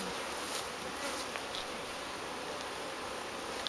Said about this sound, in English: Lots of bees underneath that one hanging off the bottom.